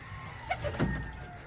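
Pigeons in a loft in Juana Díaz, Ponce, Puerto Rico give brief low mumbling coos, a couple of soft throaty calls close by over faint background hum.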